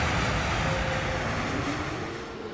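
An Airbus A320neo engine in Microsoft Flight Simulator 2024 gives a steady, full-bodied jet roar that holds constant and eases slightly in level toward the end, heard alone without talk.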